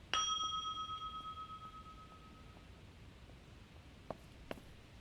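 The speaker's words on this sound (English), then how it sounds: "What's the bell do?" A bell rings in the Withering Rooms video game, with one clear struck ding that rings on with a long fading tone, followed later by two faint, brief clinks over quiet background hiss.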